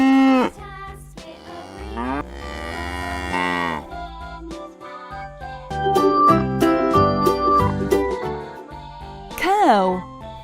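Cows moo several times, long drawn-out lowing calls that rise and fall, close and loud, alternating with a voice speaking briefly between the calls.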